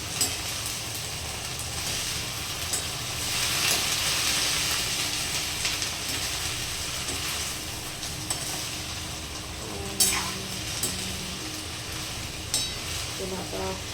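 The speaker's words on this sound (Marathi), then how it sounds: "आता हिला छान आपण मिक्स करून घेऊया" Guar (cluster bean) bhaji frying in a home pan is stirred with a spatula, giving a steady sizzle with scraping and occasional clinks of utensil against metal, faint speech-like murmurs underneath.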